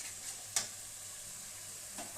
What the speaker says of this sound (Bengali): দিয়ে ভালো করে নাড়িয়ে কষাবো।